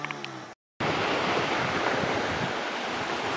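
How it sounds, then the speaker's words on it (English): Surf washing onto Oucho Beach on Koh Samet, Thailand: a continuous broadband roar of breaking waves, fairly faint and steady, with wind noise and a brief dropout near the start. "And this is Oucho Beach."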